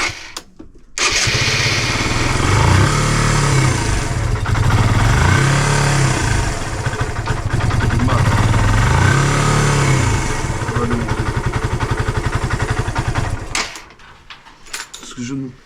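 A Suzuki Van Van 125 motorcycle, back in use after twenty years and running badly from an air-fuel mixture fault on the choke, fires up after a second and holds a loud, rough, throbbing idle with wavering revs before cutting out near the end.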